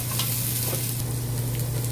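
Ginger sizzling in a little olive oil in a cooking pot, a steady continuous frying hiss with a low hum underneath, close and even throughout.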